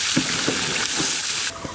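Rui fish and chopped onions frying in hot oil on a heated tawa pan: a steady, close sizzling hiss with a few soft stirring bumps, and no voices over it.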